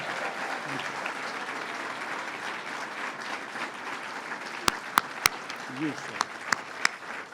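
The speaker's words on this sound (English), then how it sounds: "Let's give the mayor a round of applause and thank him." An audience applauding the mayor at an outdoor government announcement event in Fulton, sustained crowd clapping throughout with a few sharp, close claps punctuating the second half and faint voices mixed in.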